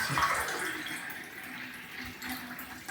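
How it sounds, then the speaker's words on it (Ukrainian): Tap water, settled after filtering, runs steadily into a full glass, with a continuous close splashing rush and no talking. "Наливаю повний стакан, тут рівно 200 грамів і заливаю водою."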